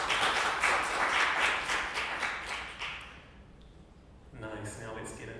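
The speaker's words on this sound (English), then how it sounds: "a round of applause for the sponsors" An audience at a web design talk applauds the sponsors with a burst of clapping that fades out after about three seconds, followed by a voice speaking.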